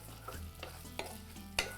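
Garlic and onion frying in a pan give a soft, continuous sizzle, with a few brief stirring scrapes spaced through it and no voices.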